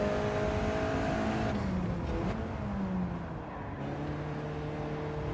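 All-wheel-drive car of roughly 200 to 250 horsepower at full throttle in the video game Gran Turismo 7, engine note climbing through gears with a gearshift dip, steady and close.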